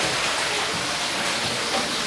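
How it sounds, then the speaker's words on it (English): Steady, loud hiss of running water like heavy rain, a continuous dense wash that stays even throughout with no voices over it. "It's raining in here apparently."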